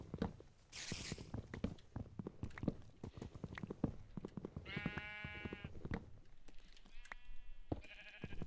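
Sheep bleating in a survival video game, several distinct bleats in the second half, moderately close, over a backdrop of soft footsteps and ambient game noise.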